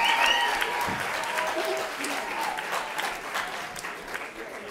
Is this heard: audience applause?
yes